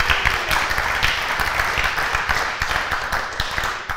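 An audience claps at a Perl talk at the Chaos Communication Congress, producing dense, steady applause that fills the whole stretch at moderate loudness.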